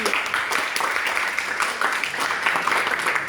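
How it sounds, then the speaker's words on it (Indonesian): An audience at a speech competition applauds: continuous even clapping across the moment, moderately loud and fairly uniform. "mana tepuk tangannya?"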